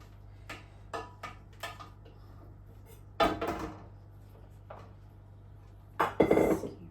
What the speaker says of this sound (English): So I'm just going to basically scoop it out, range it over my filling.